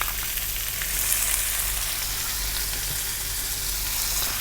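Chopped onion sizzles steadily in hot oil in a pan while cooking Indian chicken curry, a continuous even frying hiss with no voices.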